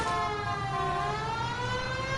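A police car siren in the video game L.A. Noire wails steadily from an unmarked convertible, sweeping gradually in pitch, loud and continuous over engine noise.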